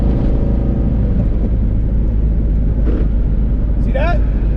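Car fitted with a Tremec TKO transmission cruising at about 70 mph, steady loud engine and road rumble throughout with the revs easing down, plus a brief whine near the end.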